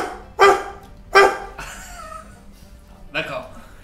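A man imitates a dog with his voice, giving two loud, close, yelping barks followed by a drawn-out whine and a final softer bark, with short pauses between the sounds.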